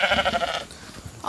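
A flock of sheep bleats on a dry, dusty farm as they are called in for the night, several overlapping calls close by in a short burst.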